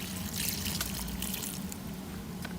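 A lota of water is poured onto moringa seedlings planted at home, producing a close, steady splashing trickle with no voices.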